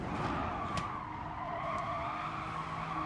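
Race car in Gran Turismo Sport braking as late as possible, with a steady engine drone and tire noise held at an even level throughout, plus a couple of brief higher-pitched squeal bursts.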